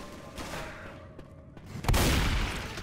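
Gunshots in Left 4 Dead 2, a few scattered sharp cracks and then a heavy close blast that rings out loudly before tapering.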